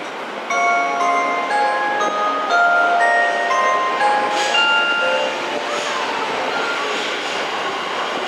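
A Ginza Line 1000 series subway train bound for Asakusa idles and hums at the Tameike-Sanno station platform while a series of steady electronic tones and chimes ring out, with no talking.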